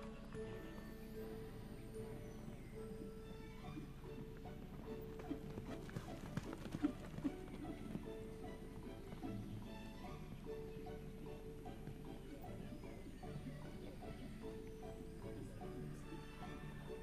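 Horse hooves clip-clop at a rising trot around a riding arena, a steady rhythmic beat heard fairly faintly with some rustle and a brief louder burst midway.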